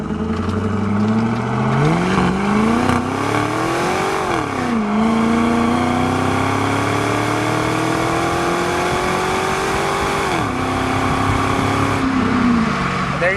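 A 2000 Pontiac Formula WS6 with an LS1 V8 and a 4L60E automatic pulls out and accelerates. Its engine drone rises loudly through the gears, with the pitch climbing and dropping at each upshift.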